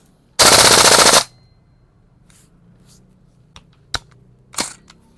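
A Double Eagle Noveske M4 gas blowback airsoft rifle fires one loud, close full-auto burst of rapid rattling shots lasting under a second, followed by a few sharp mechanical clicks and clacks.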